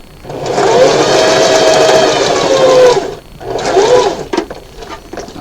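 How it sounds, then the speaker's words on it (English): A sewing machine runs steadily while stitching a bow tie seam, a loud close whir for a few seconds, then a short pause and a second burst as it backstitches, ending with small handling clicks. "presser foot down, and continue sewing. And backstitch."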